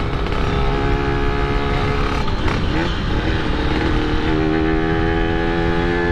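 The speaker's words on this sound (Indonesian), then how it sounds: "Walaupun pakai kolong gue tetap bisa ngeblayer. Karena bacotnya kencang juga kalau buat digeber, RPM tinggi." Yamaha RX King two-stroke motorcycle revving hard at high RPM, a loud, continuous, close engine wail that holds and shifts pitch slightly, with no voices.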